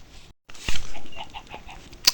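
Chickens in the video game Minecraft give a few short, soft clucks in an uneven rhythm, with light game noises around them and no speech.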